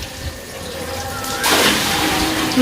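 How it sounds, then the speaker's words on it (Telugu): Water gushes into a drum during laundry washing, a sudden rushing pour that starts partway through and continues steadily, close by. "ఇవి పోసుకో ఈ డ్రమ్ములో పోసుకో"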